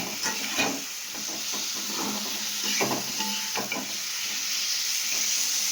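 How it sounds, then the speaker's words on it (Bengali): Parboiled potatoes dropped into cooked spice masala, a steady hissing sizzle close by with repeated soft scraping strokes as they are stirred. "মশলাটা কষানো হয়ে গেছে দেখো বন্ধুরা এবার দিয়ে দেবো আলুটা"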